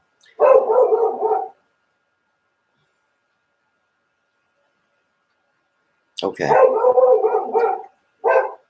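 A dog barks in two loud bursts separated by a long silence, with a brief spoken word near the end.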